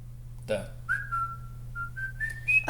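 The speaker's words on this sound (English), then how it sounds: "I was also whistling" A person whistles a short tune close by, a few sustained pitched notes stepping upward, with a brief voice sound at the start and end.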